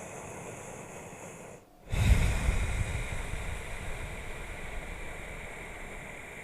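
Slow nasal breathing, a long steady airflow through the nose that swells into a broad, soft rush after a brief pause, close and alone with no talk.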